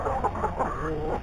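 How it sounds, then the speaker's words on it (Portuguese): Chickens cluck in short, irregular bursts around a rooster arriving among the flock at a small farm, the calls close and moderately loud. "o galo já chega espanando todo mundo"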